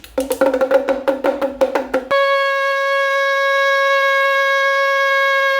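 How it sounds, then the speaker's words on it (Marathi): A damru drum is shaken during a daily home puja, giving about two seconds of rapid, pitched rattling beats. A long, steady, loud tone then follows and sustains to the end. "त्यानंतर डमरू"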